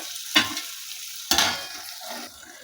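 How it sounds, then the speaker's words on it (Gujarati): Spiny gourd curry stirred in a pan: two distinct scraping strokes of a spoon against the pan, each with a burst of sizzling, and a quieter low simmering sizzle between them. "એકવાર હલાવી લઈએ ઢાંકીને ફરીથી થવા દઈએ"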